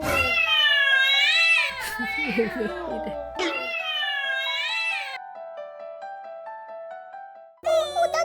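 A cream-colored stray cat meows repeatedly in long, wavering, high-pitched cries, close and loud, with brief rustling in between.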